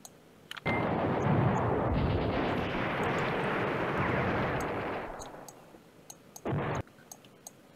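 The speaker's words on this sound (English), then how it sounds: "I want him to finish his bombardment here." Artillery bombardment in the Command Ops 2 war game: a dense, rumbling roar of shellfire runs continuously for about five seconds, then fades, followed by a short separate burst.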